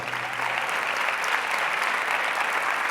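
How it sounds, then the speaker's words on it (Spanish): A church congregation claps in steady, dense applause that holds at an even level throughout, with no speech rising above it. "denle un aplauso al Señor que está aquí"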